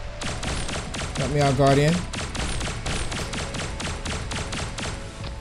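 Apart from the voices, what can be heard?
gunshots in Pixel Gun 3D video game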